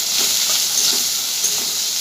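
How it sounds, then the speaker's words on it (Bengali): Onion fries with salt and turmeric in a pan, producing a loud, close, continuous sizzle with no one talking. "এবার পেঁয়াজটা ভাজা হয়ে গেছে, একটু লাল লাল করে ভেজে নিয়েছি।"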